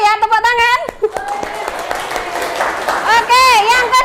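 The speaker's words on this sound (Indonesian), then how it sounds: "tepuk tangan" Students clap in a classroom during a physics lesson on static electricity. A brief, scattered burst of hand-clapping sits between stretches of a teacher's close, clear speech.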